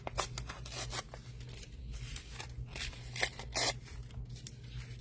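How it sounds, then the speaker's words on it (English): Fabric is torn by hand into strips for belly bands, giving a series of sharp ripping bursts of varying length, close and fairly quiet, with rustling between tears. "This one is kind of wide, so I'm gonna rip it down."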